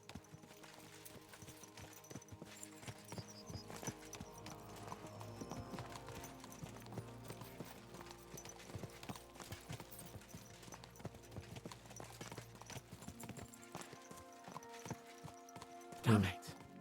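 Horses' hooves clip-clop at a steady gallop in the video game Kingdom Come: Deliverance II, a dense rhythmic patter over a low background drone, ending with a short louder knock.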